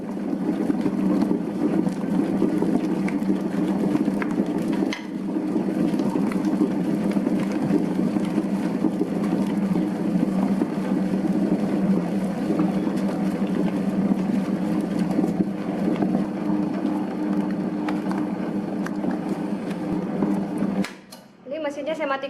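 A dough mixer kneading sweet chocolate bread dough: a steady, loud mechanical hum and whir running continuously for about twenty seconds, with a brief dip partway and a clatter as it stops near the end.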